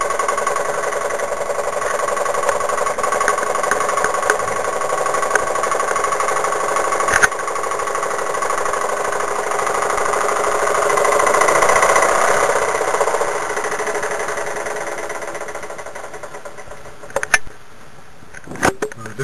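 A Wilesco toy steam engine runs with steam fed low, giving a steady mechanical chatter and whirr close up, rising slightly midway, then a few sharp knocks and clatters near the end.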